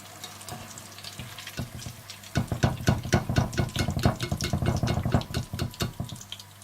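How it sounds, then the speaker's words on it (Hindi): Eggplant slices fry in a pan with a soft sizzle. Stirring and clattering come in quickly from the middle of the clip, moderately close, and no one speaks. "और इसी तरह से आप सारे बैंगन फ्राई कर लें"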